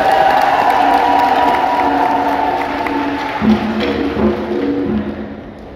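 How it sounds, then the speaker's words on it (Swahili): At a Mass celebrating Catholic teachers in Mbeya, a large crowd cheers and applauds the children with loud, sustained noise, high whoops and a few thumps, then fades slightly. "tunapigia makofi ya watoto wetu"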